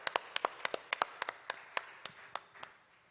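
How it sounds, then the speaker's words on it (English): Sparse applause at a Lagos technology conference, with a handful of distinct, crisp hand claps in an uneven rhythm. They come quick at first, then space out and grow fainter over about three seconds. "Give him a warm round of applause"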